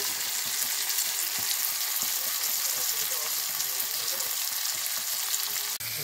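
Tangra fish and onions fry in hot oil in a wok, giving a constant dense sizzle with scattered crackles and light stirring scrapes, close by and uninterrupted by speech.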